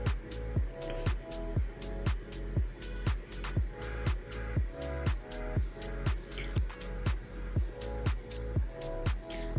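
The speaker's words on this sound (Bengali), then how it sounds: "তো এইবার আমি সব উপাদানগুলো ভালো করে মিক্স করে নিচ্ছি" Hands mix a soft mash of boiled potato and egg with salt and a little oil for potato egg chop, making steady, rhythmic wet squishes, roughly two per second, close and even throughout.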